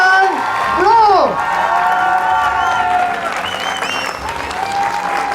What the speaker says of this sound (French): veuillez faire un tonnerre d'applaudissements pour la voix française d'Harry Potter, Kylian Blanc!